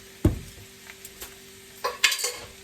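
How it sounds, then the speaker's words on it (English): Refried beans stirred in a pan with cumin: a sharp utensil knock, then a few soft scrapes and a louder clattering stir near the end, over a faint sizzle heard close up. "And then I guess the idea behind it is you stir it, right?"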